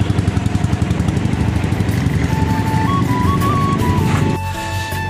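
A new Royal Enfield motorcycle pulls away from a showroom, its loud thumping engine running steadily close by and a tonal whine rising and shifting before the engine note drops off near the end, with no voices.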